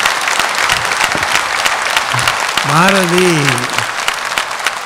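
An audience at a Kalyanamalai talk show applauds after a speech with steady, dense clapping throughout, and a voice speaks briefly over it.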